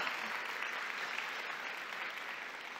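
Sustained applause from a conference audience at a women's leadership forum, a dense, even crackle of many hands clapping that fades slightly toward the end.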